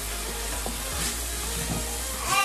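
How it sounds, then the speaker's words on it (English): Beef patty filling with spices is stirred in a hot pan, giving a steady frying sizzle with a few soft scraping strokes, close and moderately loud, with no voices. "Mix it properly."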